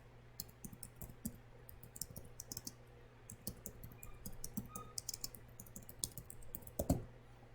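Typing on a computer keyboard, uneven bursts of quiet close key clicks with short pauses and a slightly louder clatter near the end.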